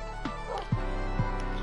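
A dog in a survival video game gives a few short, low yips and barks spaced about half a second apart over a steady game hum.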